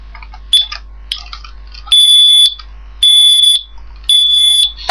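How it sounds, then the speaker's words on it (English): Smoke alarm under test giving three loud, piercing electronic beeps about a second apart, each roughly half a second long, with softer chirps and clicks between them in a quiet room. "Smoke alarm test."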